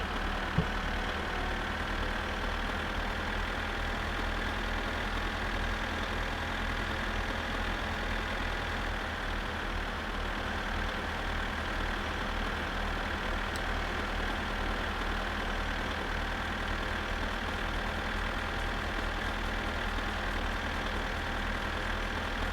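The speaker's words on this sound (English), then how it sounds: "Apologies to all you tractor noise fans." The tractor engine in the My Summer Car video game drones steadily at a constant idle-like pitch, a loud continuous rumble with no breaks or talk throughout.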